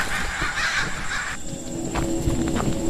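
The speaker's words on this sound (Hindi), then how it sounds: "उसके बाद वो सभी चील और कौवे बनकर फिजा में उड़ गए।" Harsh crow caws used as an effect in a horror story, a few rough calls over a dense, noisy background, fairly loud and without any speech.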